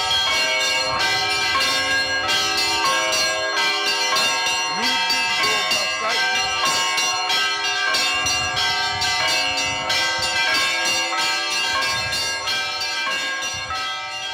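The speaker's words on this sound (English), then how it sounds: "That's how I learned bell ringing." Church bells ring loudly and continuously, many overlapping tones struck in a steady, dense peal that fills the whole stretch.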